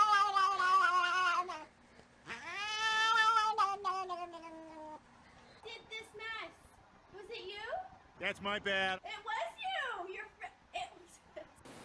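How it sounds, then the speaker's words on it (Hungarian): Cats meowing and caterwauling in several drawn-out, wavering calls, some loud and close, with shorter high yowls and whimpers near the end; a few quieter gaps between calls. "Hány macska tud így nyávogni?"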